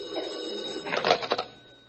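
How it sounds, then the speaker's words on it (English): An old-fashioned telephone bell rings as a radio-drama sound effect, a short burst of rapid metallic trills over a low background hum, then fading off. "Suddenly the phone rings."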